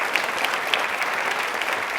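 Loud, dense audience applause in a studio quiz show, a brief continuous burst of many hands clapping together.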